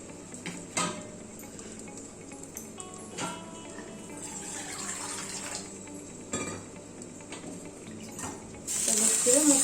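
Water sprinkled into a hot oiled pan beside Odia chitau pitha batter gives a soft hiss that swells into a loud, close sizzle near the end, with a few faint kitchen clatters before it.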